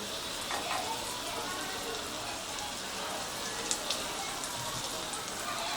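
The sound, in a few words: chopped garlic sizzling in melted butter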